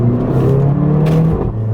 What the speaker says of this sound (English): excuse me, I got to do some accelerating here